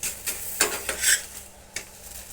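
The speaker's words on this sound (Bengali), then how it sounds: "এইভাবে চেপে চেপে পরোটাগুলো সব ভেজে নেব" A drumstick leaf paratha fries in a little oil while being pressed down, giving soft close scrapes and light sizzling in short irregular bursts over a low pan hiss, with no talking.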